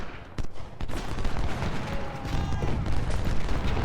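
Musket volleys in the Civil War strategy game Ultimate General: Civil War, a couple of sharp nearby cracks followed by a rolling, ragged fusillade of distant shots that rumbles on without pause.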